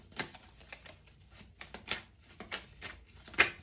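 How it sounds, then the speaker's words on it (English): Tarot cards shuffled and drawn from a deck, close and quiet, with a run of soft irregular riffling and slapping taps and no voices. "I'm only going to take 2 cards out of this other deck"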